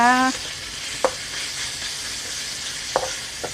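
Minced pork stir-fried with chili and garlic sizzles steadily in a hot pan, with a few sharp spatula taps and scrapes breaking through the constant hiss; a brief tonal squeak opens it and no one talks.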